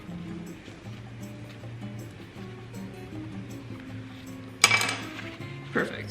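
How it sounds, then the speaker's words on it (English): A knife slicing a tortilla down the middle in a home kitchen, a sudden crisp burst of cutting and crinkling near the end over low background hum and soft clinks. "I'm just going to cut it down in the middle"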